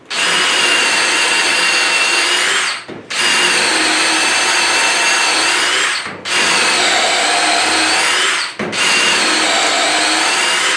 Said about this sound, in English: Now we're going to try the black and gold drill bits from Dewalt on the Mini Atomic